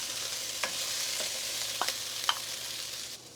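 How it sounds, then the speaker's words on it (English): Rice frying with browning crab sticks in a hot pan over medium-high heat, a steady loud hiss broken by a few soft scrapes and taps of a stirring utensil, no talking. "I'll just see if I can brown the crab sticks a little bit. Now we're gonna add our rice."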